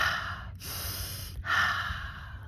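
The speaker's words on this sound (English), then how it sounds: "you might even do it in a little faster succession of a few breaths." Two quick, forceful breaths drawn in succession during a conscious breathing exercise, close and airy, each a sharp rushing inhale or exhale separated by brief pauses.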